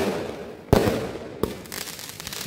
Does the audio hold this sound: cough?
no